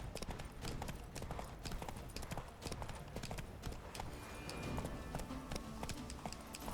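Hooves of Roach, Geralt's horse in The Witcher 3: Blood and Wine, clip-clop in a steady, brisk trotting rhythm, close and continuous, with no talk over them.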